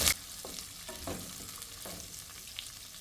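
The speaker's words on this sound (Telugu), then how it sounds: "ఆనియన్స్ వేసుకుంటున్నాను." Onions stirred and frying in a pan for gonguura pulao, a soft continuous sizzle with scattered scraping strokes of a spoon against the pan, close and fairly quiet.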